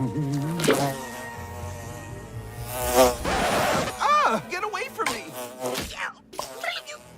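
A bee's buzz in the Marmaduke (2022) movie, a close, wavering drone that rises and dips in pitch across the scene, mixed with music and a shouted voice.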